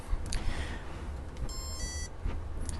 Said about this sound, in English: when you get to the bottom, it beeps at you.